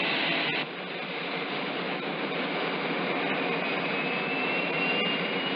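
A jet airplane roars steadily and loudly overhead, a continuous broadband rush of engine noise that holds without pause throughout.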